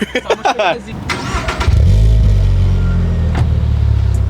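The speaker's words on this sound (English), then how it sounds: "let me guys show you the exhaust clip real quick, because this is a special exhaust." A sports car with a special aftermarket exhaust starts after a few quick voices, then settles into a deep, loud rumbling idle with a brief blip near the end.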